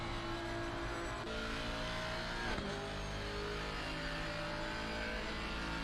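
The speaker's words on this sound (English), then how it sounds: "Inside the car with Martin Rotenbach here." In a sim-racing championship round at Mount Panorama, an in-car race car engine drones at high revs continuously, a sustained buzzing tone with slight shifts and a brief dip mid-clip, fairly faint and without talk.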